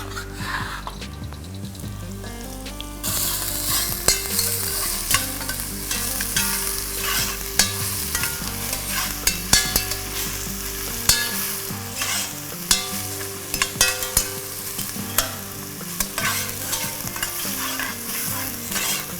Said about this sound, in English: You can see the garlic is going, getting a little golden brown, and as soon as it starts turning color, you're going to add your chopped onions into it.